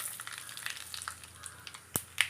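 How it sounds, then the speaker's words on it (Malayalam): Mustard seeds fry and sputter in hot coconut oil for a Kerala mango curry tempering, a faint steady sizzle with two sharp pops standing out near the end. "കുറച്ച് കടുക് ഇട്ട് കൊടുക്കാം."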